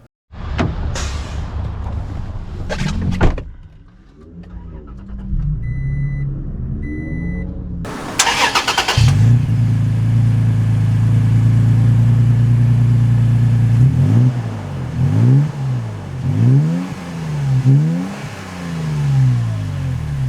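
A 2022 Toyota Tacoma TRD Pro pickup starting up, its engine catching with a burst before settling into a steady idle, then pulling away with rising and falling revs as it shifts through gears, loud and close.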